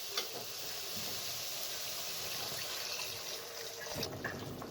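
Water is poured into a pan of spiced shrimp curry with ridge gourd and potato, a steady splashing liquid sound running throughout at close range with no talk.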